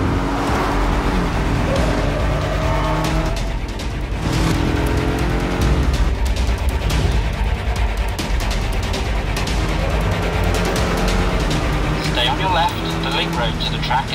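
A 2019 Jaguar XE 300 Sport runs a flying lap on a circuit over a stopped-traffic road section, the engine note rising and falling loudly through gear changes with occasional tyre noise, a voice talking over it.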